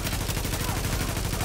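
Rapid, continuous bursts from a small submachine gun in Tom Clancy's The Division, fast evenly spaced shots running throughout the clip, fairly loud and close.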